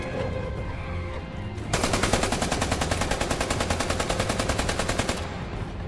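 Rapid machine gun fire from the Planet of the Apes: Last Frontier video game, a loud sustained burst of evenly spaced shots lasting several seconds, heard alone after a brief quieter lead-in.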